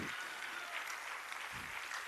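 Ongoing applause for the Chief Minister at a World Disability Day gathering at Shakuntala University, Lucknow: a continuous, even crowd clapping heard from a distance, with a brief low murmur of voices beneath it.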